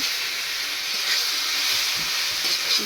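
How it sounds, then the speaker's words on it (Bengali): Butter fries in a pan with a loud, steady, bright sizzle and hiss that continues evenly throughout, close up and with no talking. "ভেজে নিচ্ছি।"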